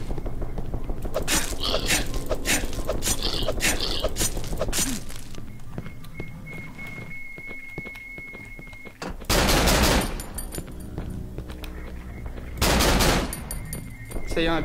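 Gunfire in the horror game Cry of Fear, a run of rapid sharp shots early on under a voice, then two loud blasts later amid dark ambient noise.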